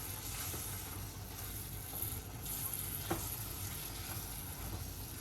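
Onion stuffing for stuffed eggplant, sprinkled with coriander, stirred in a pan over a faint, steady sizzle, with one small metallic tap partway through and no one speaking.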